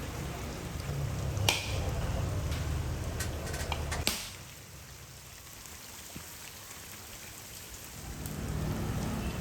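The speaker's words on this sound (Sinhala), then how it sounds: "මේ දෙකම අපි සුද්ධ කරන පොඩ්ඩක් වතුර දාලා අනිවාර්යයෙන්ම හොදා ගන්න ඕන" Red onions and garlic are rinsed in water, producing close splashing and swishing for about four seconds, then a quieter pause, and the splashing returns near the end.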